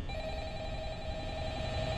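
Telephone ringing in a Five Nights at Freddy's-style horror video game, a steady electronic ring tone sounding continuously at moderate volume over a low background hum, with no one speaking.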